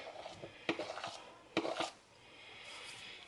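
Flour worked into bread dough in a bowl, heard as a few soft scraping and thumping strokes of a spoon against the bowl, close and fairly quiet, followed by a brief pause.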